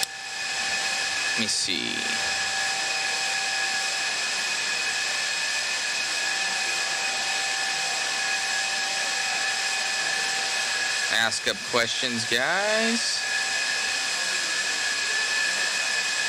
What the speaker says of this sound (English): you can hear those blowers blowing in the background